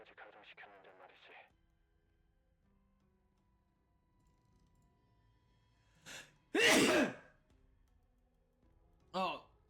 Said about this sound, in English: Oh, sorry about the sneeze.